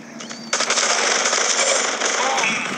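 Rifle fire in the mobile shooter Guns of Boom rattles in a rapid continuous burst lasting a couple of seconds, loud and close, with a voice speaking beneath it.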